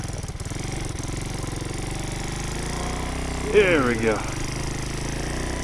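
A custom 1967 Honda CT90 trail bike with a swapped YX140 engine chugs steadily in first gear on a muddy trail, its close, even engine drone continuing throughout, with a brief rising rev partway through and a short spoken remark over it.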